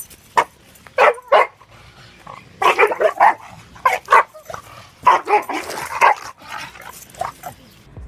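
An aggressive Shar Pei barks in sharp, loud bursts, single barks and quick doublets spaced irregularly, with some shorter yips between them.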